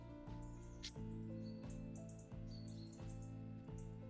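Birds chirp in a forest at Padley Gorge in the UK, faint repeated short calls over a low steady tonal hum, quiet and somewhat distant.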